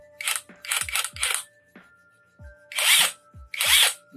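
An OKS cordless impact driver fires in short whirring bursts, several quick pulses and then two longer runs, close and loud, separated by brief quiet gaps.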